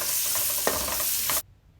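A large onion sizzling in a pan for Jamaican-style boneless curry chicken, a loud, dense hiss with a brief scrape of stirring, then cutting off abruptly to near quiet.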